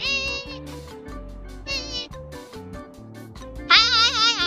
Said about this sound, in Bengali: আর এই পাগল বিড়ালটা কি করছে দেখি তো।